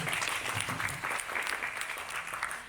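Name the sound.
audience applause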